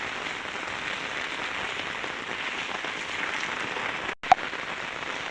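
Heavy rain pouring down outdoors, a dense continuous hiss of steady volume, with one brief knock near the end.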